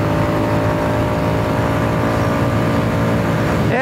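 A Royal Enfield Classic 350 motorcycle engine runs loud and steady, with a continuous drone holding through the run and a rising pitch sweep near the end as it pulls through the gears.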